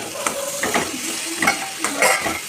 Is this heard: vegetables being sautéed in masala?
yes